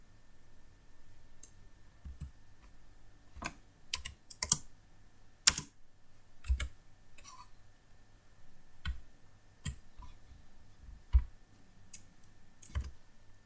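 Keys on a computer keyboard are tapped while typing in Microsoft Word, sparse distinct clicks arriving in irregular bursts, close and fairly quiet against a faint steady hum.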